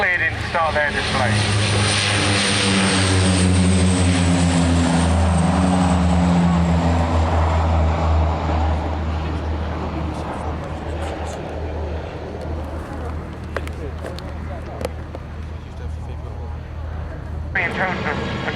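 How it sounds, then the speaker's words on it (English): Two Lynx military helicopters perform at an air display, their engine and rotor roar loud and steady at first, then easing slightly as they move off, with a commentator talking over the noise throughout. "Lynx helicopters have just been cleared in to start their display."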